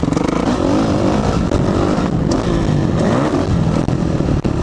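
A motocross dirt bike rides around a track, its engine buzzing loudly and close, rising and falling as the throttle is worked.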